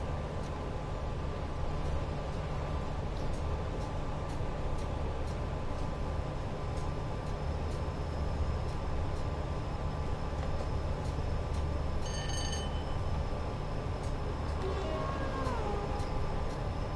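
Trains idle and move at Penrith station in Train Sim World 5, a steady low engine rumble and hum with faint rail clatter, a brief high tonal squeal near the end and a descending whine just after, no talking.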